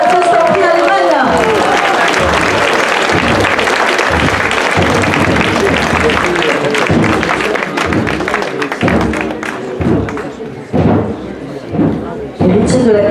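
Crowd clapping and cheering at a nighttime torchlight parade in Biot, with scattered thumps and a voice speaking over the applause as it tapers off unevenly toward the end.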